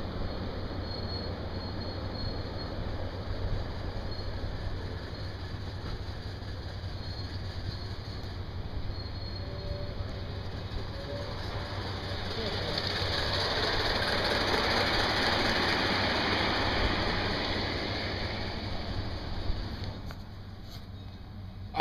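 A train rumbles past nearby, steady low rumble building to a louder hissing, squealing peak in the middle before fading away.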